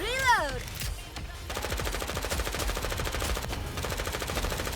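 Rapid machine-gun fire in Goddess of Victory: Nikke rattles in a dense, continuous stream after a brief electronic chirp, loud and close with voices around it.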